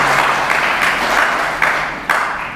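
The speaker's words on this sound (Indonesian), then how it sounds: "Kita beri sorak-sorai dia bagi Tuhan" Church congregation applauding continuously for about two seconds, a dense steady wash of clapping and some cheering that swells with a couple of sharper bursts near the end.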